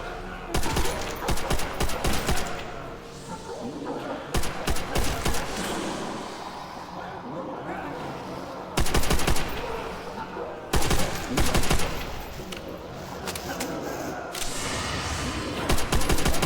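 Dense rapid gunfire from weapons in World at War Zombies on the Nacht der Untoten map rattles in long loud bursts with short gaps, continuing steadily over a busy game mix.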